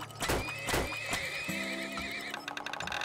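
Video game horses whinny loudly several times while hooves clip-clop in quick rhythm, with sharp game effects and a steady tone beneath.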